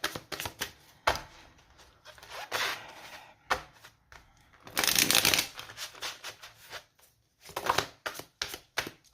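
An Illumination tarot deck is shuffled close by, with bursts of riffling and sliding card sounds, taps and pauses, including one longer continuous shuffle midway.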